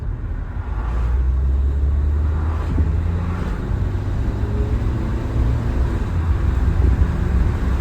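Renault Scenic IV accelerating hard through the gears, a steady low engine drone with broad road and wind noise from inside the car, rising and settling at each shift and holding for several seconds without speech.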